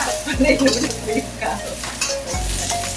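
Cabbage and carrots tipped into a pan of frying noodles, setting off a loud, steady sizzle with repeated stirring, scraping and clinks of a utensil against the pan.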